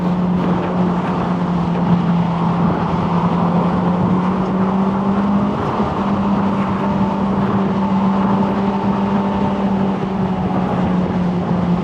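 A stock Honda S2000 roadster driving on the road, heard from inside as a steady, loud engine drone with a constant low hum and faint road noise, holding nearly unchanged throughout.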